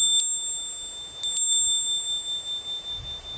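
A small bell rings in a few light, bright tinkles, one early strike followed by a quick cluster of three, with clear sustained ringing tones and no talking.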